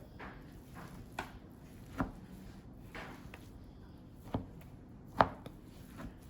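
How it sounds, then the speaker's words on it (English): A knife cuts shredded pork meat on a board, giving several soft, separate chopping taps at irregular intervals. The taps are quiet and close over a faint background, with no talk. "you can cut your meat like this after you shred it"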